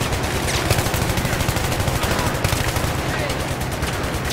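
Sustained automatic gunfire into a wall in Battlefield 3, a dense, continuous rattle of rapid shots with constant loudness and no break across the stretch.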